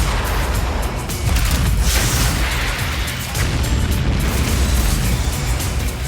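Weapon fire and blasts from a trailer for the monster film Tremors 3, with graboid hunters shooting; a loud, dense continuous roar of booming explosions fills the whole stretch with no speech.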